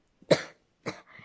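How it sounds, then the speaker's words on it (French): Two sharp coughs from a woman who is ill, about half a second apart, close and fairly loud, followed by a softer throat sound, with no talk over them. "je tousse un peu, je suis malade"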